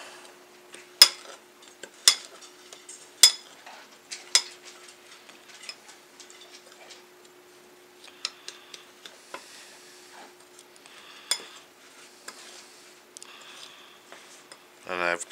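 Dry rub for ribs is mixed in a bowl with a utensil, giving a few sharp clinks and taps early on, then quieter scraping and stirring with small knocks, close by.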